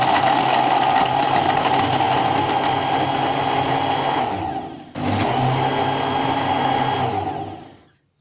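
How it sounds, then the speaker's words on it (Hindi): An electric blender whirring loudly as it blends a strawberry milkshake with ice and milk, a steady high motor whine that briefly dips mid-run, then resumes and winds down. "अब हम इसको दोबारा ब्लेंड करेंगे।"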